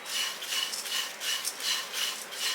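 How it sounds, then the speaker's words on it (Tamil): Dry poha flakes roast in a pan while a spatula stirs them in quick, rhythmic, scratchy sweeps, a close, papery rustle that repeats about every half second, with no voices. "இதை வந்து சிறுதியிலே வச்சு நம்ம அவலை வந்து நல்லா வறுத்துக்கணும்"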